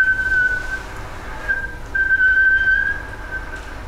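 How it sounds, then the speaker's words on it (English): A person whistles a sustained, fairly loud tone into a trumpet, the pitch holding steady with slight wavers and brief dips over a few seconds, a faint airy hiss beneath and no talking. "like if you were whistling outside the trumpet and then whistled into it"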